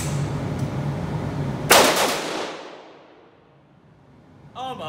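A KS-47 rifle chambered in 7.62x39 fires a single sharp, loud shot outdoors, the blast ringing out and decaying over a second or two, with low background rumble before it.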